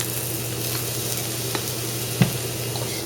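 Ingredients for a Balinese coconut tofu curry toasting in a pan on an induction cooktop, a continuous even sizzle with a low hum and a couple of small clicks, heard alone.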